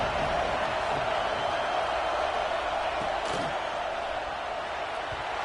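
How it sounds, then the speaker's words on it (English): Football stadium crowd at an Alabama versus Ohio State game, a steady, loud wash of roaring fans with no breaks and a few faint thuds beneath it. "This crowd bringing the energy and noise early."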